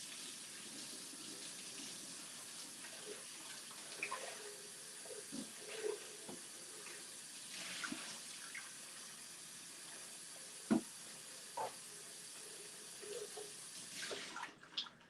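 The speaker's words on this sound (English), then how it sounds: "Once that's done, you just want to rinse the jug out." Running tap water rinsing an Optimum G2.6 blender jug in a sink: a soft, steady faucet hiss with occasional splashes and knocks as the jug is moved under the stream.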